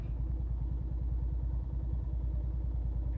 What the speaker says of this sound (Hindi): तो हम लोग चलते हैं इस बाइक को राइड पर लेकर